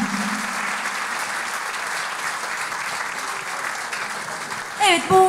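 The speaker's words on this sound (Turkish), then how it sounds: "Sevgili sunucumuz o güzel sunumlarıyla kendisine ben kocaman bir alkış almak istiyorum" Audience applauding a presenter at a Turkish classical music choir concert of Yeşilçam songs, steady loud clapping throughout, then a voice speaks briefly over it near the end.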